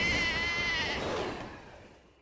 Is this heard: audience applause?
no